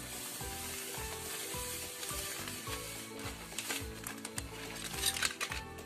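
Potting soil mix being stirred for repotting an olive tree, a steady gritty rustling and scraping that runs throughout, with a tonal musical bed underneath.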